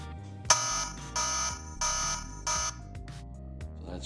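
A smart home alarm beeps in loud, repeated pulses of piercing electronic tone, each lasting about half a second with short gaps between them.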